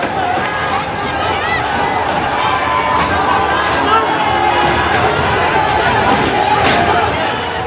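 An angry crowd of protesters at Badlapur railway station fills the air with dense, continuous shouting of slogans and chatter, loud and close throughout.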